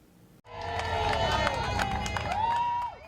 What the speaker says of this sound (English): Hundreds of thousands are gathered along Paris's Seine River to cheer on the procession of athletes